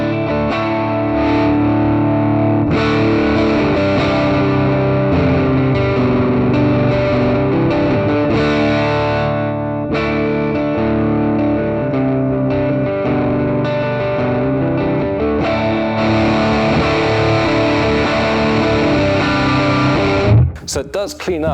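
Electric guitar played through a Joyo preamp house amp simulation pedal with the tone cleaned up, strummed chords ringing loud and continuous for about twenty seconds before a brief clattering stop.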